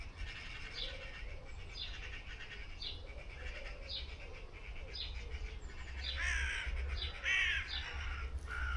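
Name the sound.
magpie chattering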